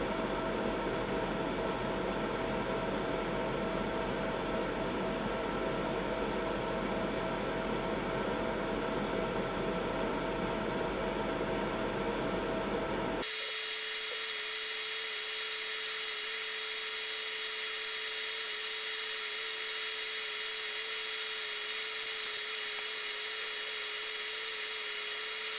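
A fiber laser engraves a stainless steel cross pendant, giving a steady broadband hiss with a fan-like hum; halfway through the sound abruptly changes to a quieter whine with a thin sustained tone. No one speaks.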